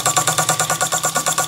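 A small cast model engine runs on about 5 PSI with a quick, even chuffing beat of roughly a dozen pulses, loud and close, with no voices.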